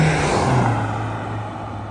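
A Honda CRX engine, fitted with a hydro transmission conversion, runs loud and close with a steady, full roar held throughout.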